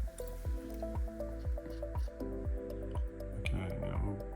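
A chopstick stirs homemade 3D-printer bed adhesive liquid inside a bottle, giving a steady rhythm of soft wet squishes and drips, close and quiet.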